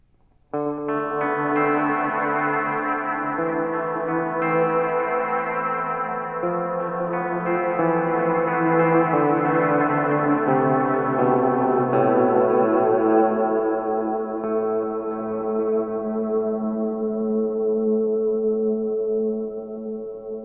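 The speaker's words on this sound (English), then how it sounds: "crank up the feedback and the mix a little bit and basically just let the wet signal take over" A sustained guitar chord swells through a Walrus Audio Lore pedal's delay with heavy feedback, its repeats piling into a thick, washing drone that slowly fades.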